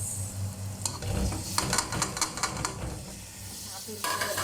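Tomatoes are stirred into shrimp frying with mixed spices in a pan, a steady loud sizzle with scraping utensil strokes against the pan, close up.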